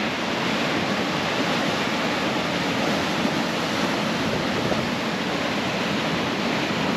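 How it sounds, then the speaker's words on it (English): Rancheria Waterfall, between Watson Lake and Teslin, rushes in a steady, dense broadband roar, loud and close, unbroken for the whole stretch with no voices over it. "Well, I can hear the waterfall."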